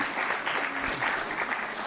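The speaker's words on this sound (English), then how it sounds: "Big round of applause to him." Audience applause at a law school convocation ceremony, a brief, even burst of many people clapping with a faint murmur of voices underneath.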